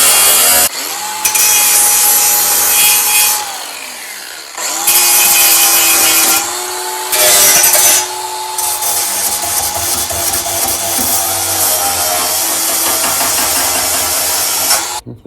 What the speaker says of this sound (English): I can just blob it up and clean it up with the grinder